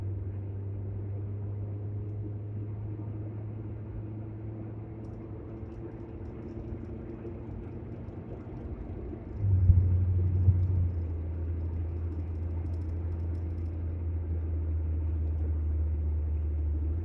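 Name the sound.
car vibrating and rumbling while accelerating on road test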